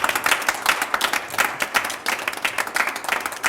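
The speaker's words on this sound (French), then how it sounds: "j'aimerais bien que nos chers pépites s'applaudissent très fort" Loud, dense applause from an audience cheering contestants at an elimination round of a French business-startup competition, many hands clapping continuously and close throughout.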